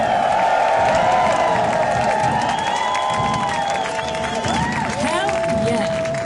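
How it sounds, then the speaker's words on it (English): Crowd at an Extinction Rebellion protest in London cheering and whooping loudly, a dense sustained roar of voices with shouts and some clapping, close and continuous throughout. "Let's get a cheer for everything we've done so far."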